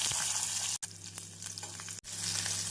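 Garlic and onion hit hot oil in a pan with dried chili and asafoetida, giving a bright, steady sizzle broken by two short gaps, with faint stirring scrapes over the frying hiss.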